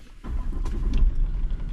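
A Range Rover L405 engine cranks and catches, then settles into a deep, close, steady idling rumble.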